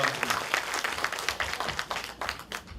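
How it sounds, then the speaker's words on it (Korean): Audience applauding at a 2013 resident self-governance talk show event in South Chungcheong, steady dense clapping throughout with no talk. "박수 부탁드립니다."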